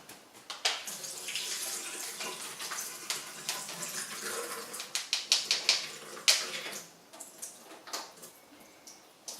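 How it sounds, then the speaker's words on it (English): Soaking water is strained off lentils into a sink, a continuous splashing pour with rapid irregular droplet patters and clicks, close and moderately loud, ending in a few sharper spatters. "Okay, so I'm just going to strain the water."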